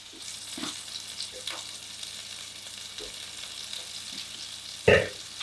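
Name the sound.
meatballs browning in a frying pan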